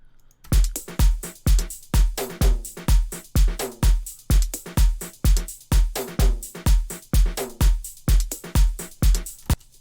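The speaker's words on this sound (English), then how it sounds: "then together all the drums, they sound like this." A looping drum beat plays steadily with punchy kicks and snares, topped by a bright, prominent clap, with no voices.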